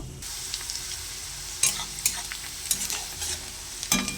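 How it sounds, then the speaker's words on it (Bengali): Chopped onion and green chili hitting hot mustard oil with cardamom, cinnamon and bay leaf, frying in a pan for chickpea ghugni: a steady close sizzle with sharp crackling bursts and stirring scrapes, no voices. "তেলটা আমার গরম হয়ে গেছে। এবার এলাচ, দালচিনি, তেজপাতা, এর মধ্যে পেঁয়াজ কুচি আর লঙ্কা কুচি দিয়ে দেব।"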